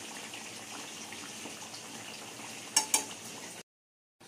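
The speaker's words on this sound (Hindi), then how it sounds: "बहुत ही आराम से इसे हमें फ्राई करना है" Samosas deep-frying in hot oil give a steady, soft, even sizzle with a couple of sharp clicks near the end before the sound cuts out, close and unaccompanied by talk.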